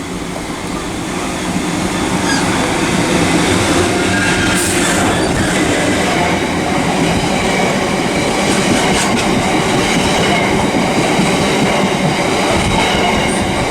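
Freightliner Class 66 diesel freight locomotive, number 66619, hauling wagons through Reading West on the Great Western Main Line, passing close and loud as a steady roaring rumble with wheel clatter and a brief high squeal.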